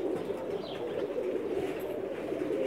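A Pakistani pigeon coos in a low, steady, continuous murmur, close to the microphone, with no talking.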